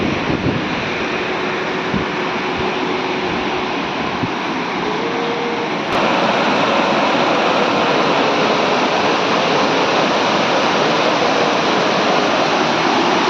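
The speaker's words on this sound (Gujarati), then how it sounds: "પાણીનો ખડખડાટ અવાજ અને સામે ધોધ પડે છે." A steady, loud roar of a waterfall and rushing water near the Droneshwar temple fills the scene, a constant broadband wash that grows slightly louder partway through, with no voices.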